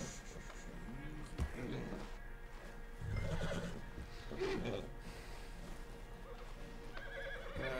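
A horse whinnies amid Red Dead Redemption 2 game sounds, with hoofbeats clopping and someone talking intermittently over a steady background.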